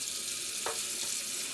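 Tap water runs steadily into a sink while a frying pan is washed, a constant hissing splash with a brief louder splatter partway through.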